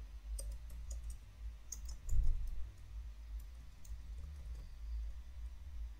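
Computer keyboard keys tapped in a quiet room while entering text into an Excel spreadsheet, a scattered run of light clicks with short pauses between bursts.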